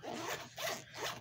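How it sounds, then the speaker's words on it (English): A zipper on a fabric case holding action-figure accessories is pulled open in three short rasping strokes, close and fairly quiet, with brief pauses between pulls. "I'm opening my zipper."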